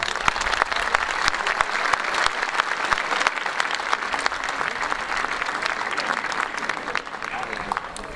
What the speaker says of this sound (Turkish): onlar kadar sizler de kocaman bir alkışı hak ediyorsunuz